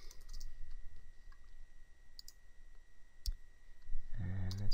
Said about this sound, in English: I'm going to type in racing schools,